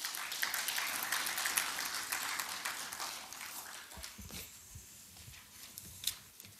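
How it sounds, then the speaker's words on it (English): Applause in a parliamentary chamber at the Pan African Parliament, a continuous wash of many hands clapping that fades gradually, leaving scattered claps and light room noise. "a loud applause"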